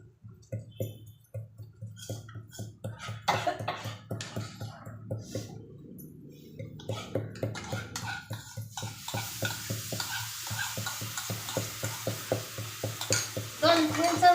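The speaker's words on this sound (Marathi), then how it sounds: "दोन 3 चमचे दही होतं, ते दही पण टाकले." Yogurt is stirred into green chilies cooking in a pan, a close rhythmic run of spoon scrapes and wet squishing clinks against the pan, continuous with a light sizzle that grows toward the end.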